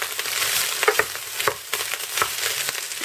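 Mushrooms being stirred into a chicken gizzard goulash frying in a pan, a steady sizzle broken by several scraping clinks of the spoon, close and alone without any voices.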